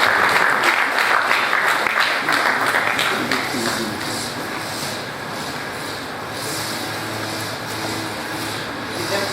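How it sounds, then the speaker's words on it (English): A large audience at an annual scientific conference and general meeting applauds in a sustained, dense roar of clapping that starts loud and then settles into a steady, slightly softer wash, with faint voices beneath. "Please a round of applause for her"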